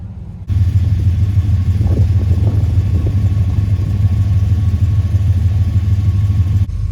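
A restored 1978 Dodge W200 crew cab 4x4's big-block V8 rumbles loud and close, cutting in abruptly and holding a deep, steady idle with a slight lope for several seconds; no talking.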